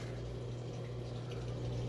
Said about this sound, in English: it is draining the water out. You can hear the drain kicked in